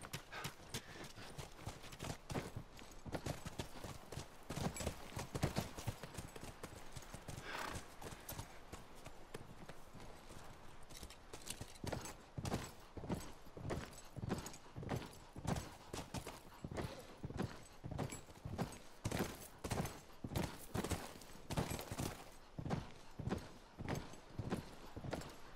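Horse hooves in a video game clip-clop steadily at a walking pace, a continuous run of sharp, even knocks that grows more regular toward the end.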